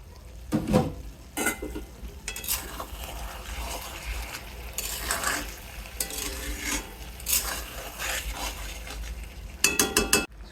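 Potatoes and fish cooking in a pan with onion and garlic paste, stirred with a utensil that scrapes and clinks against the metal in repeated bursts over a low sizzle.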